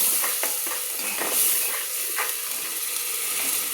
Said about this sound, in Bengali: আমি ভালো করে পেঁয়াজের পেস্টটাকে কষিয়ে নিচ্ছি